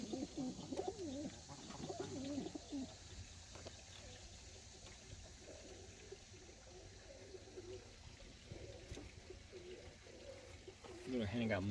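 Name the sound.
Birmingham Roller pigeons cooing in the loft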